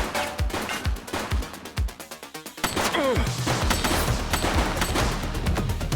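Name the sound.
gunfire in the video game The Precinct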